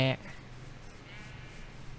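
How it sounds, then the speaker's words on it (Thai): Sheep bleat in Minecraft, a short loud bleat at the very start followed by a faint, sustained bleating tone in the background. "โอ้ยแกะเต็มเลย"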